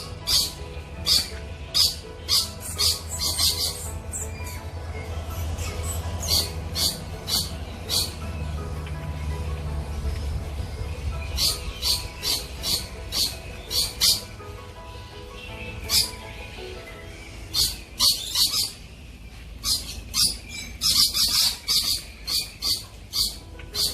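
Birds at a nature park in Port Moresby, Papua New Guinea, give repeated sharp chirping calls in bursts, close and fairly loud over a low background hum, with a person talking at times.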